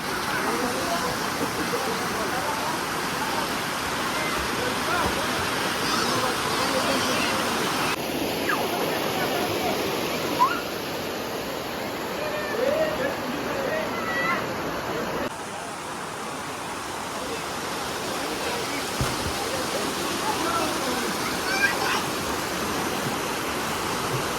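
Continuous rushing of a village river in Konkan where people swim, a dense broadband roar that stays steady and fairly close throughout.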